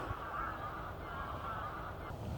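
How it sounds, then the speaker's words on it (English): Faint, distant honking from a flock of geese drifts in, a continuous low chorus of calls with no talking. "There's a lot of geese over there."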